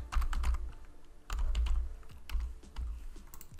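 Keys clatter on a computer keyboard as text is entered into an Excel workbook, quick bursts of close, crisp keystrokes separated by short pauses, with no voice over them.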